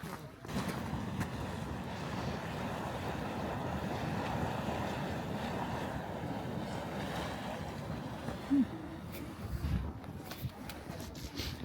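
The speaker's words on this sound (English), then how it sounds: "Oh, it is bubbling." Geothermal hot spring bubbling in Iceland's Golden Circle, heard as a steady, close churning wash of water mixed with wind buffeting the microphone, with no clear pauses across the whole stretch.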